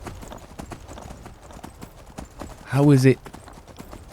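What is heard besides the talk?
horse galloping hooves in Skyrim video game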